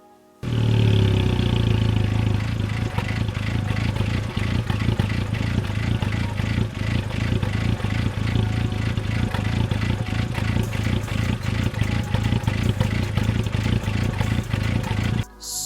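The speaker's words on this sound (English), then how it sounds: "So the main problem with it being that the car idles a bit rough." A Volkswagen MK5 Golf GTI engine idles rough, a steady close low hum with a slightly uneven, pulsing beat that runs unbroken and alone for the whole stretch.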